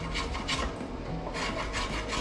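A small, light block plane shaves a scrap-wood oar with rhythmic rasping strokes, close and steady, each pass a dry scraping rush with no talk.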